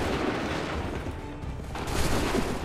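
Musket volleys in the Assassin's Creed 3 video game, a dense, continuous rattle of distant gunfire with a brief lull midway, filling the whole moment without talk.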